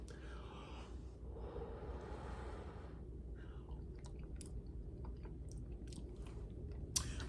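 Someone chewing a mouthful of homemade cheesy burger mac, with soft, close, wet mouth sounds and a few small clicks over a steady low background hum, no talking.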